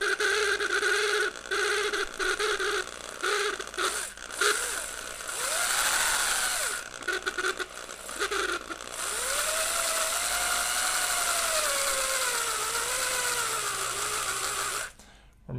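Power drill fitted with a 1.5-inch bit boring into a decorative wax candle, whirring loudly and continuously up close with changes in pitch as the bit bites and speeds up, ending abruptly.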